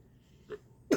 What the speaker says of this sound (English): I'm choking, I'm coughing, I'm gagging.